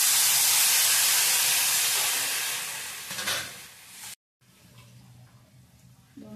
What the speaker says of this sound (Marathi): त्यात आता 2 ग्लास पाणी ओतूया आपण